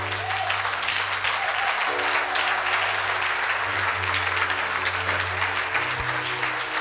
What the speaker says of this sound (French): Si tu veux acclamer,